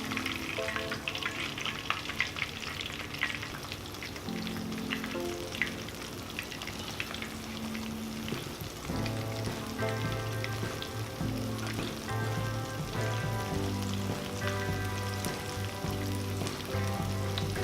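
Chicken pieces frying in a pan for a buffalo chicken wrap, a steady close sizzle with crackling and bubbling that persists throughout, no voices.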